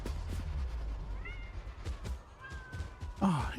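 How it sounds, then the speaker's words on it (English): A cat meows several times in quick succession, near and fairly clear, with short rising and falling cries over a low background hum and faint talk. "Meow, meow, meow, meow."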